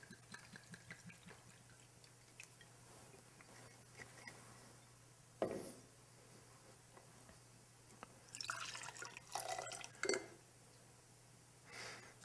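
Two ounces of Pisco poured into a fairly large glass while mixing a Pisco Sour: quiet liquid trickles and drips in short bursts near the end, over a low steady background hum with no talking.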